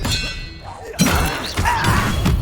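The Expelliarmus spell in Hogwarts Legacy, a bright metallic clang and impact that bursts in suddenly after a quieter moment, followed by ringing shimmer and further thuds.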